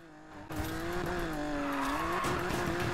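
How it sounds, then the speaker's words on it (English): A car in Need for Speed Heat drifts with a long, wavering tire squeal over a steady engine roar, loud and continuous after a sudden onset. "just so you guys can watch me drift"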